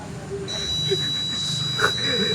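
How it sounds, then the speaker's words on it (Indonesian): A steady high-pitched electronic buzzer tone from a microcontroller object-detection radar project sounds continuously, growing louder, while a person talks over it nearby. "Buzzer makin keras dan servo juga berhenti."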